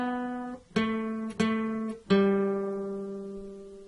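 Four plucked guitar notes from part four of the nursery tune Baa Baa Black Sheep, one open on the second string, then two fretted and one open on the third, each ringing and decaying, played slowly and cleanly with no talk.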